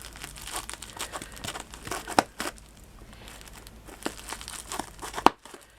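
Scissors snip a paper doily while crafting a mini Christmas tree. Close, quiet paper rustling and crinkling is broken by a couple of sharp, isolated snips.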